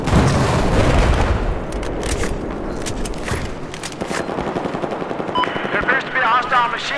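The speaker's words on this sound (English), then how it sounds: "There appears to be a hostile machine gunner operating south of your location." Rapid machine gun fire and heavy gunshots in a military shooter video game, loud and close, with bursts of automatic fire over battle noise and a voice talking partway through.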